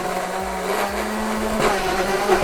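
Blendtec blender running on raw vegan fig cookie dough, a loud close motor whir with labored, rhythmic churning pulses as the thick mixture catches, no talking.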